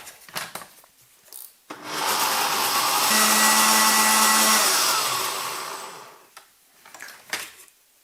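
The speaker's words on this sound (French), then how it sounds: "Hop, on va mixer une première fois." A kitchen blender whirs loudly for about four seconds, blending milk, sugar and yogurt for vanilla yogurt, with quieter knocks and handling noises before and after.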